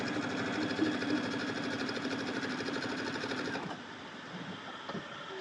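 A sewing machine stitching a jelly roll quilting project runs at a steady, rapid, close-up hum and clatter, easing to a softer, slower run near the end.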